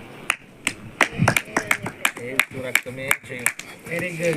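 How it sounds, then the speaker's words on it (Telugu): Several people clap in quick, irregular bursts, close by, mixed with voices talking over the applause, at a tent opening prayer gathering. "చప్పట్లు"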